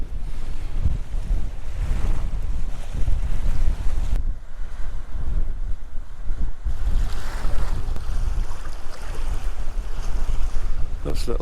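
Strong wind buffets the microphone at Silent Valley Reservoir in the Mourne Mountains, with water waves lapping and churning continuously beneath loud, gusty roaring throughout.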